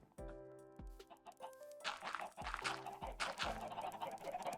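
Several Minecraft chickens cluck and squawk close by, with short repeated calls overlapping in a busy, continuous chatter.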